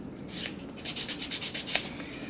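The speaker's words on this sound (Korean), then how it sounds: "그루브 있는 모서리는 다시 버퍼 모서리로 샌딩 작업을 꼼꼼히 해주겠습니다" A nail buffer sands the grooved edge of a sculpted gel nail in quick back-and-forth strokes, a close rhythmic scratchy rubbing of about a dozen passes with no voices.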